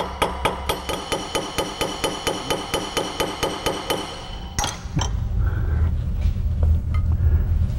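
A two-pound hammer strikes a British side-by-side shotgun to tighten the crossbar, about twenty sharp, evenly spaced metallic blows close up, followed by a louder clank and a low rumbling clatter.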